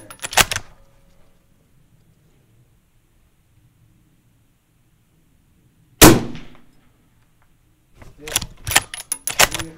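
A rifle in 6.5 Creedmoor fires at steel gong targets about 1032 yards away; a sharp shot at the start, a loud ringing clang near six seconds, and a burst of metallic impacts and clatter near the end, with quiet gaps between.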